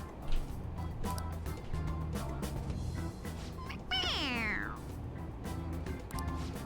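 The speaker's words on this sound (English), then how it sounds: "It's a stuffed animal. Yeah, it's just a toy. It meows when you press on its head." A stuffed toy cat in the video game Persona 5 Royal lets out a single drawn-out meow when pressed, heard over game background music.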